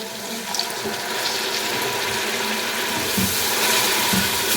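Water is added to spices frying in a pan for a Pakistani dhaba-style daal mash, with salt and cumin powder among them. A steady, close, hissing sizzle runs throughout and swells slightly louder toward the end.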